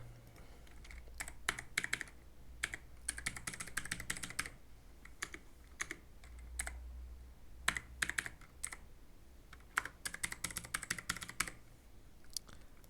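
Computer keys are typed in quick irregular bursts with short pauses between them, close and clear with no talking, as a password is entered.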